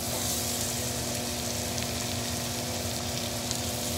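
Sliced onions sauté in melted butter with a steady, even sizzle and crackle that holds constant throughout, close and moderately loud, with no voices.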